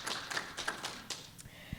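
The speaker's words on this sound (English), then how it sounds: "Please, a round of applause." Scattered, faint hand claps from an audience at a panel dialogue event, a handful of light uneven taps with no steady roar of full applause.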